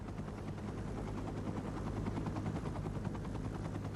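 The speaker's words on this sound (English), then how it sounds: "Pilot Craig Cowley flew the helicopter as low as he safely could in the dark." Helicopter flying low through a dark canyon at night, its rotor thump and engine drone steady and loud, filling the whole stretch with a dense, rhythmic churn and no voices.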